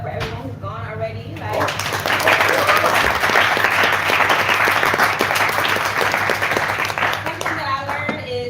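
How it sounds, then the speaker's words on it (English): An audience at a poetry show claps and cheers for the poets, a loud sustained burst of applause that swells and fades, with a speaker's voice heard before and after it. "can we just clap it up for everyone who's gone already?"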